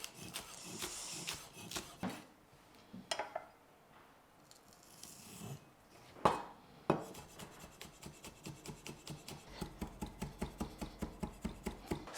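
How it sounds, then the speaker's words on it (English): Knife chopping spring onion leaves into rings on a board, with irregular cuts at first, then a steady fast run of sharp, close, crisp taps. "The leaf bits, we're gonna cut the unhappy part off and just chop them into rings."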